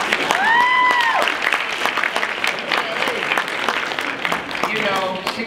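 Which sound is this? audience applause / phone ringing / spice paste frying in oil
audience applause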